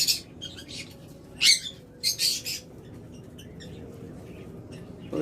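Caged pet birds of a local breed, kept for sale, give short bright chirps in a few scattered bursts over a faint, steady background hum.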